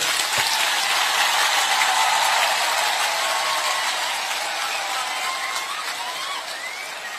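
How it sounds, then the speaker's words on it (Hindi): An audience gives sustained, dense applause, loud and continuous clapping throughout that tapers slightly toward the end, with no speech over it. "सबसे बड़ा ताली आपको होना चाहिए"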